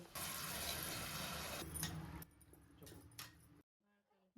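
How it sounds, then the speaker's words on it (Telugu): A glass of water is poured over tamarind in a pressure cooker, pouring and splashing steadily for a couple of seconds, then thinning to a few trickles and drips before stopping, with a voice briefly at the end. "ఒక గ్లాసు నీళ్ళు వేసుకోండి"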